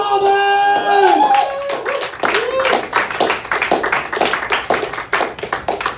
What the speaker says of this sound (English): Put your hands together for David Gonzalez!